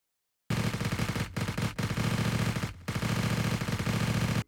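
Rapid automatic bursts from an MP5 in the shooter game Escape From Tarkov, loud and close, with three sustained strings of fire separated by brief pauses.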